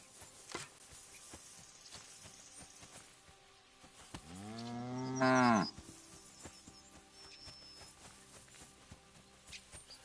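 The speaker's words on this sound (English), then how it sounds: "Wait, is this somebody's cow?" A video game cow gives a single long, loud moo that rises and falls, standing out over faint background ambience and soft footsteps.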